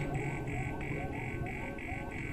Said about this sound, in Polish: jeszcze się te alarmy włączyły pierdzielone